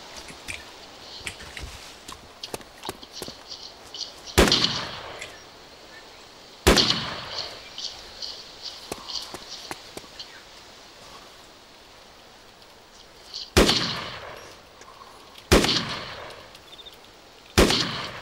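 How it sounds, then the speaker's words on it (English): Gunfire aimed at zombies in the video game DayZ, heard as several loud, sharp shots at irregular intervals over a steady noisy background, with no talk. "Oh, we're firing at zombies."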